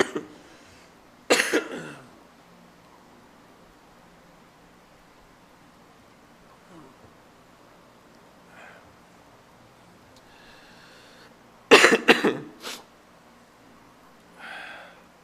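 Coughing in two bursts: a couple of sharp coughs at the start, a long quiet stretch, then a louder cluster of coughs.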